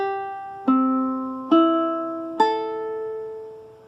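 Ukulele in tune, its strings plucked one at a time: four clear notes, each ringing out and overlapping the next, close up and alone.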